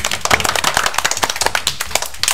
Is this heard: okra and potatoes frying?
no